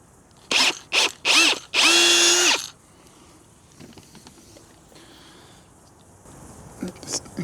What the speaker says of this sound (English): This increases the hole size so that I can get the bolt through.